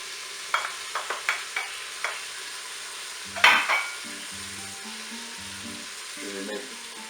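Carrots dropped into a Cookeo multicooker pot and stirred with a utensil, giving a few sharp clacks and scrapes followed by a soft, low sizzle that continues quietly in the background.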